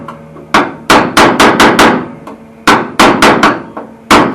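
A hammer strikes welded metal on the cowl of a Holden Torana UC under rust repair, giving a string of sharp, ringing metallic taps, close and loud, in two quick bursts with a short pause between.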